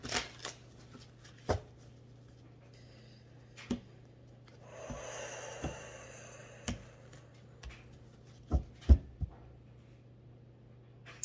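A shiny tarot deck is shuffled close by, giving sharp card snaps and riffles at irregular intervals, with a longer soft riffle in the middle, against a quiet background.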